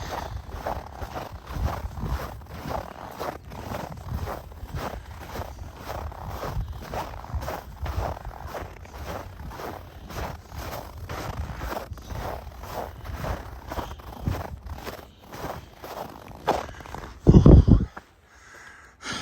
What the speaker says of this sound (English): the crunching sound that snow makes when it's dry and cold